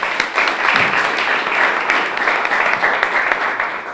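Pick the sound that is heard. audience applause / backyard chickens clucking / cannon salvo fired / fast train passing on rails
audience applause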